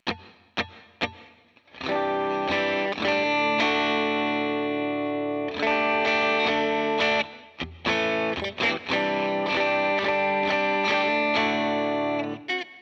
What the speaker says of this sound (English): I love the Empress delay, or I'm sorry, the Empress reverb.